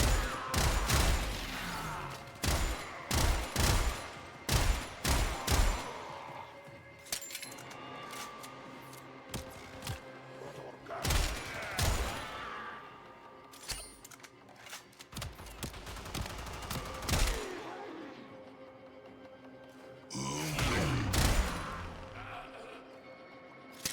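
Rifle gunfire in the video game Warframe, loud sharp bursts of shots in clusters spread across the stretch, with crashing impacts between and no talk.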